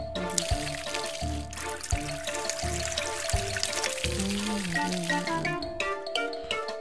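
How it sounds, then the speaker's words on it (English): Water pouring in the Unfreeze Me 2 video game, a continuous splashing trickle layered over rhythmic game music with a steady low beat, moderately loud throughout. "Poured out a ton of water."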